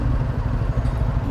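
Motorcycle passing close by: a loud, dense engine roar fills the whole brief moment, steady and rough, with no voices over it.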